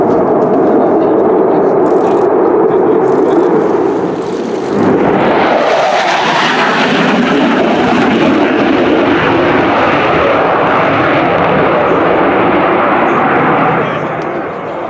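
A Spanish Air Force Eurofighter EF-2000 Typhoon jet flying a display at an air show, its loud, continuous engine roar sweeping past with a shifting pitch as it passes and then holding a steady, powerful rumble.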